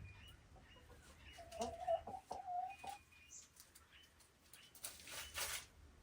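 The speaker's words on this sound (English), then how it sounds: "The chickens all seem very happy together." Free-range hens clucking in short, moderately close bursts outdoors, with a brief spell of quieter background noise between calls.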